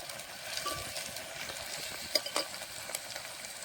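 Onions, ginger-garlic paste and fenugreek fry in a pan for an egg curry, a faint, even sizzle with a few light stirring clicks, close and quiet, with no voices.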